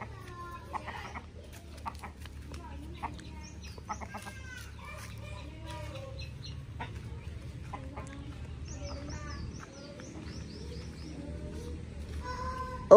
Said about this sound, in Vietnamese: Ê, con gà to chưa?